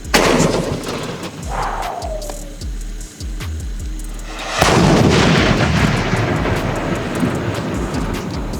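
Hercules sky-shot fireworks go off in an outdoor firework test: deep booming blasts, a rising whistle streaking upward, then a huge loud burst followed by crackling, rumbling explosions that continue close and powerful.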